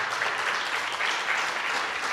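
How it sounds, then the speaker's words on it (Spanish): A church congregation applauds in a steady, dense wash of clapping that holds at an even level for a couple of seconds, with no voice standing out over it. "Dale un aplauso a Jesucristo."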